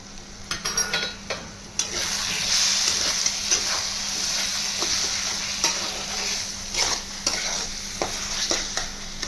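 Paneer being stir-fried in a tomato and besan masala, a steady sizzle cut by repeated scraping strokes of a spatula against the pan; no voices.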